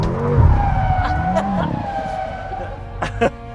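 A car brakes hard, with a loud, close engine whine and tire squeal that sweeps in pitch and then fades, ending in a couple of short knocks, with brief voice sounds mixed in.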